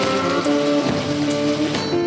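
Rain falls steadily on a Louisiana swamp near New Orleans, making a continuous close hiss and patter across the whole moment, with a low steady hum beneath it.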